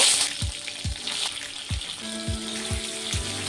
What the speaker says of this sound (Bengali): এই তেলের মধ্যে বেগুনগুলোকে ভেজে নেব